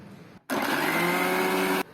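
A mixer grinder blends oil into homemade mayonnaise, kicking in abruptly after a short quiet moment with a loud, steady whirring drone that runs for over a second and then cuts off.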